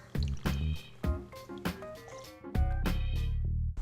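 Half an ounce of Fernet Branca liqueur is poured in a close, gurgling stream of uneven glugs and drips that settles into a steadier trickle near the end.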